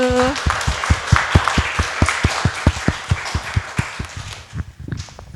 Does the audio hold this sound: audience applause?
yes